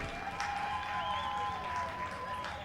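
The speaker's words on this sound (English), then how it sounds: "See the crowd getting into it." A small crowd at a women's college soccer match cheers and claps during a corner kick, a moderate, fairly distant wash of voices and hands with faint whistling tones over it.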